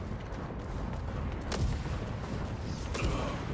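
Dense gunfire and explosions rumble in a multiplayer shooter video game, a continuous distant roar of shots with a couple of sharper cracks standing out.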